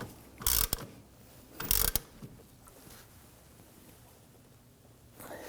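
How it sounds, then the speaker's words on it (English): A ratchet tightening suspension bolts on a 2008-2011 Ford Focus rear upper control arm, two short bursts of quick clicking close by, then quiet workshop room tone and a faint final burst. "let's go ahead and tighten down our bolts."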